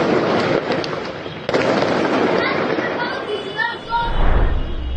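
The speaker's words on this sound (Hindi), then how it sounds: "लेकिन लेबनान में अलग तरह से पटाखे फोड़े जा रहे हैं। बैरूत में देखिए," Firecrackers going off in Beirut, Lebanon, a dense continuous crackle of many pops and bangs, loud and close, with a sharp burst near the middle and faint voices mixed in beneath.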